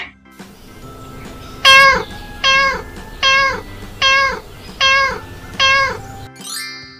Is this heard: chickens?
no